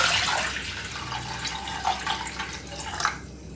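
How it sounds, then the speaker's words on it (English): Water poured into a hot pan on a stove, a close, loud, continuous hissing wash with a few splashy drips and gurgles that fades toward the end, no talking. "I'm just gonna pour water"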